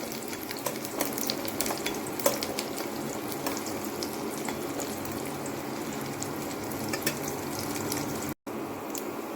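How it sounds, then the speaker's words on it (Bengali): Bori lentil dumplings frying in oil with garlic cloves, a steady close crackling sizzle with light stirring sounds and a brief dropout near the end. "বড়িটা ভাজা হচ্ছে, সাইডে হোক"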